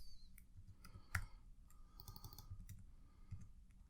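Typing on a computer keyboard, heard as a few faint, sparse key clicks over a low background hum, close and quiet.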